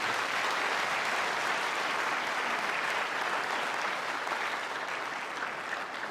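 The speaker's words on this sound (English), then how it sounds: "say a round of applause to all of them" A large crowd at a university graduation applauds, a loud, dense and continuous roar of clapping that holds steady for the whole stretch and fades slightly near the end.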